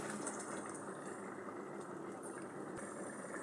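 Prawn malai curry with kasundi boils in a pot. A faint, steady bubbling hiss carries on throughout with no pauses.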